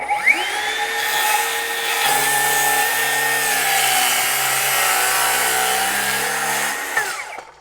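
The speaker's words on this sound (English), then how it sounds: "Just stack the wood up and cut away." A Spyder saw cuts through a triple stack of 3/4-inch plywood with a loud, steady motor whine that spins up, holds for several seconds under load and winds down, close by, with no voices.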